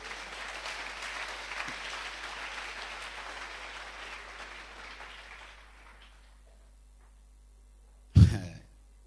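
Applause from a church congregation during a French-language sermon, a dense clapping wash that fades over several seconds to near silence, followed by a brief loud knock or bump.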